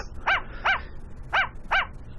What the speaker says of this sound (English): Can't you quiet that yappy mutt down?